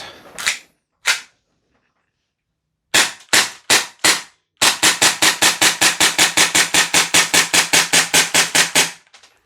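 A Tokyo Marui HK45 gas airsoft pistol fires loud, sharp, close cracks: a few spaced single shots, then a long, rapid, even string of about two dozen shots that ends abruptly, with no talking.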